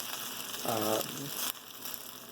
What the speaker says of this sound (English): we're just going to go ahead and sort of circulate that rice for about 3 minutes